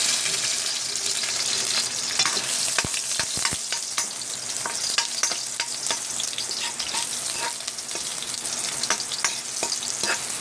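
Garlic frying in a hot pan for a Filipino home-cooked dish makes a steady close sizzle and crackle, with occasional scraping and tapping of a utensil stirring through it and no talking.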